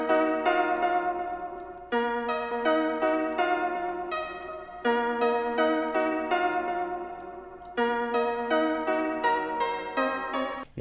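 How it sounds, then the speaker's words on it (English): Beat melody of short synth-like notes played in phrases, each note trailing off with a repeating delay echo, steady and fairly quiet with no voices. "So with the delay it sounds like this."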